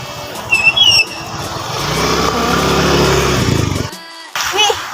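A new motorcycle's engine runs loud and close, a steady rumbling drone that swells for a few seconds before cutting off abruptly, with brief speech around it.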